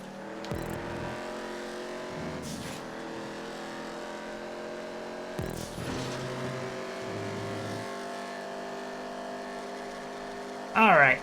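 A race car engine in the video game GTA 5 drones steadily through a long stretch of racing, rising and falling in pitch as it shifts, with a sudden loud burst near the end.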